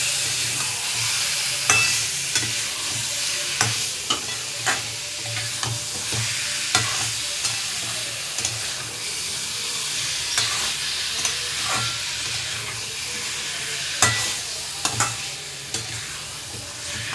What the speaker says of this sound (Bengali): মাংসগুলো অ্যাড করে দিয়ে নাড়াচাড়া করব